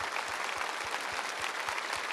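A church congregation applauding during a Mass after the Gospel reading, a steady dense wash of clapping with a faint rhythmic low thumping underneath.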